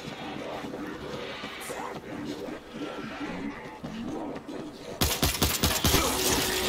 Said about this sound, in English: Gunfire. I thought we were the only team out.